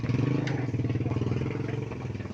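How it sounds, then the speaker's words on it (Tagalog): A family motorcycle idles steadily outside in the rain, its engine a low, evenly pulsing chug that stays close and loud throughout, with a brief higher clatter near the start. "yan po yung motor namin"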